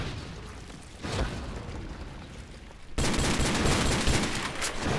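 Gunfire from a gun in WAW Custom Zombies, a video game: rapid, dense bursts of shots, first moderate and then louder and sustained from the three-second mark, with no talking over them.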